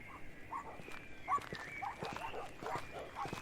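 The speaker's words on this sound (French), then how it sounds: "Au loin, des cris, des pleurs, des chiens qui aboient" Dogs bark in the distance in a French audio drama set on a summer night in 1942, with scattered yips and barks repeating over a murky background and faint voice-like murmurs.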